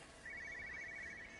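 A telephone rings faintly in the video game Everybody's Gone to Rapture, a thin electronic trill that starts after a moment and holds steadily, quiet and distant with no speech.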